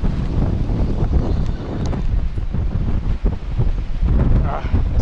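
Strong wind blowing on Grand Cayman, buffeting the microphone in loud, gusty rushes that keep on throughout with brief dips, close and rough.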